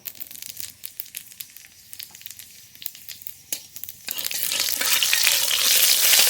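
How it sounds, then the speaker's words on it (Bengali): Radhuni and cumin seeds hit hot mustard oil in a kadai with light crackles at first, then a loud, swelling sizzle that builds and holds to the end. "ফোড়নে রাঁধুনি আর জিরে একসঙ্গে দিয়ে দেবো"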